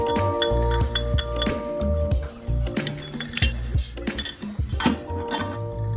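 A nut comes off in the engine bay of a Subaru STi: close metallic clinks and irregular tool taps rattle in quick clusters, with brief pauses between them.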